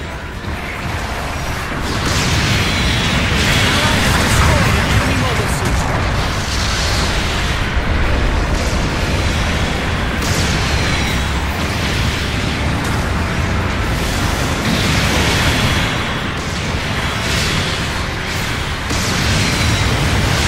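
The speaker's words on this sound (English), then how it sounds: "Long-range supporting fire incoming." Long-range supporting fire rains down in Mobile Suit Gundam Battle Operation 2, a dense, unbroken roar of explosions and rumbling booms that stays loud and steady throughout.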